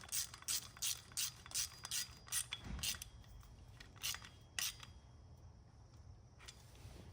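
A socket ratchet clicks in short, rhythmic bursts while tightening a 1/4-inch nut on a manual hoist saddle, close and clear, with a duller knock partway through and the clicking tapering off toward the end.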